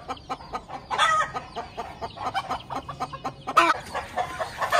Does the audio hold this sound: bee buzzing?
no